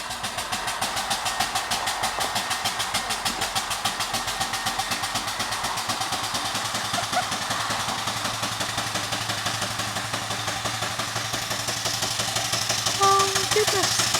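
A 4 inch scale Burrell steam traction engine runs on its first steam run outdoors in an orchard, chuffing with a rapid, steady beat that continues without a break and stays close.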